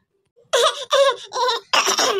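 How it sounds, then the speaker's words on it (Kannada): A person with a sore throat coughs four times in a quick series, harsh and close, with short pauses between each cough. "ಕೆಮ್ಮು ಜಾಸ್ತಿ ಆಗ್ತಾ ಇದೆ ನಿನ್ಗೆ"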